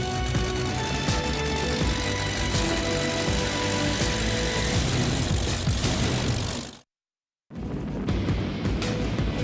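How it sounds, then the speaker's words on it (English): A loud, steady offshore powerboat racing engine drone roars continuously, with a sharp cut to silence near the end before the engine noise resumes. "Is that the sound of victory for Bob Teague and the Amsoil boat?"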